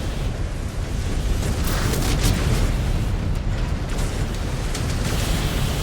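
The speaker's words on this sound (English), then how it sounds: "These guys are shooting a little too close to me." Dense, continuous roar of weapons fire and explosions erupting close to the player's mech in MechWarrior 5: Clans, loud and unbroken with sharper bursts scattered through it.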